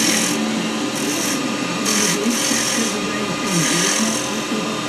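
Carbide chisel cutting wood on a lathe, bevel riding the spinning workpiece in a steady continuous rasping, rubbing hiss with slight swells, close and fairly loud, while someone talks over it.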